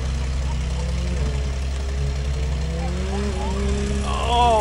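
A 1976 Pacer with a slant six engine labours off-road under load, a steady rumbling drone with the pitch rising and falling, while people talk and cheer over it.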